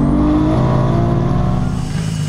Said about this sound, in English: friends from TRC are gonna give me a ride in this insane Toyota Supra